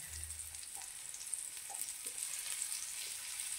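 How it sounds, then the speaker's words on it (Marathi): A steady, close sizzle of Bombay duck fish frying in hot oil on a tawa, crackling continuously with faint occasional pops. "हे टाकून घ्यायचं, फ्राय करून घ्यायचं मस्तपैकी एकदम सोनेरी रंगावर"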